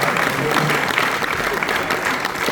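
Loud, dense audience applause at a motorcycle festival's evening contest, continuous and close with crowd noise beneath.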